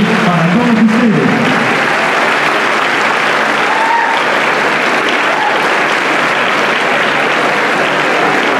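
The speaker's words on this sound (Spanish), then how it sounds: "Un fuerte aplauso" A loud, sustained wall of audience applause at a school science and entrepreneurship fair inauguration ceremony, steady dense clapping throughout, with a brief voice at the very start.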